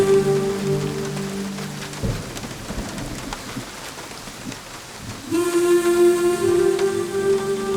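Heavy rain pours steadily in a film scene as thunder rumbles through it, the downpour dense and close, with a sustained musical tone entering near the end.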